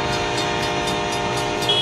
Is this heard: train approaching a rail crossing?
yes